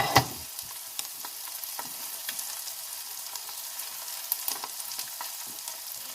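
Sea bass fillets sizzle steadily in a hot pan, a close, even crackle with scattered small pops and a sharp spit near the start, no voices.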